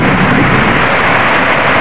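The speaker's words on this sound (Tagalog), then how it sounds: "Update lang natin kasi yung ulan." Heavy rain falls outside a house in a dense, steady hiss that fills the short stretch, close and loud, with no voices.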